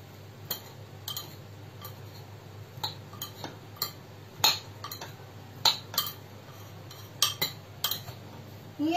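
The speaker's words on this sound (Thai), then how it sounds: "เราเคล้าตัวเต้าเจี้ยวกับตัวขิงเข้าด้วยกันนะคะ" Fermented soybean paste being mixed with ginger for three-flavor pickled ginger: sparse, quiet clinks and taps of a utensil against a bowl, spaced irregularly over a hushed background.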